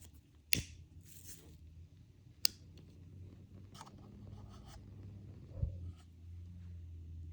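Scissors snipping through chunky knit yarn while finishing a handmade yarn flower: two or three faint, crisp snips spaced apart against a quiet room.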